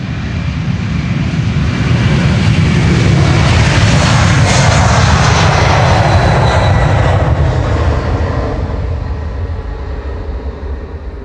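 A United Airlines jet bound for Washington takes off from Schiphol's Polderbaan runway 36L, a loud sustained engine roar that swells to a peak midway, then slowly fades as it climbs away.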